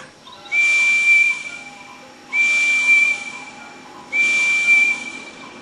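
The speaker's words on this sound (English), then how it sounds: "Let me whistle now." A steam locomotive whistle in a children's train show sounds three times, each a steady hissing, high-pitched blast of nearly a second with short pauses between, clear and fairly close with no talking.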